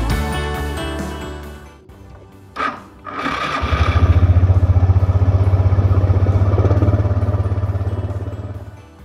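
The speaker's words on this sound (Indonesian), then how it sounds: "lalu boleh dites ngidupin kembali motornya" A motorcycle engine cranks and catches, then settles into a steady, loud idle with a rhythmic pulse after a compression test, spark plug refitted; metallic clatter precedes the start.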